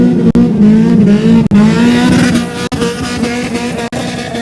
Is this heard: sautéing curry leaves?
no